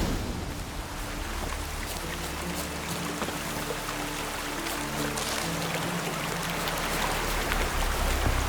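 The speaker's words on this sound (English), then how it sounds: "I love the rain." Steady rainfall in The Witcher 3, a dense even hiss of drops that holds at the same level throughout, with a low tonal drone running beneath it.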